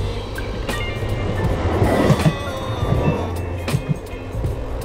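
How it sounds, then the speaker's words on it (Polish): Tram passing along a city street in Olsztyn, heard from a bicycle as a moderate rolling rumble with light rail clatter that swells and fades over a few seconds amid street noise. "Tramwaj."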